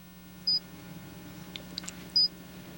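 Two short, high electronic beeps sound about a second and a half apart over a low steady hum, with faint clicks in between.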